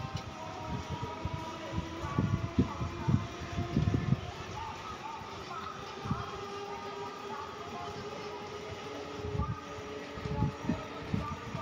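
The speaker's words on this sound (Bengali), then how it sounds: "তো আমার ফাইনালি আমার ট্রেন চলে এসেছে" A train pulls into a railway platform on the route to Barrackpore, its rumble and rail noise rising and falling in bursts over a steady wind-like hiss from nearby, with platform bustle around.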